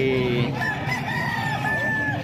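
Roosters crow and chickens cluck at a poultry market in Calumpit, a loud nearby crow rising and falling over a backdrop of more fowl calls, with no talk.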